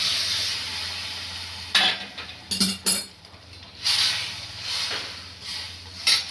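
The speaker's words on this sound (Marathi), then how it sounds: "ह्या सगळ्या शेंगा टाकून घ्यायच्या।" Drumstick pods dropped into a hot pot of water for a curry land with a few clattering knocks and splashes, with a steady hiss of simmering underneath.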